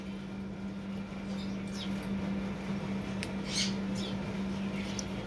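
Pet birds squawk in short bright bursts over a steady indoor electrical hum, with a cat nearby in the room; the calls are scattered and moderately close.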